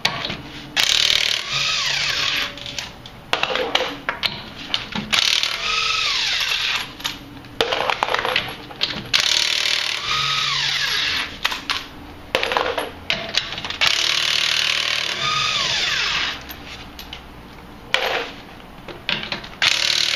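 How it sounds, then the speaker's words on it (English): A DeWalt cordless impact gun fires in repeated loud, close bursts of rapid ratcheting hammering, each lasting a second or two and separated by brief pauses and handling clicks. "why I love my impact gun by Dewalt"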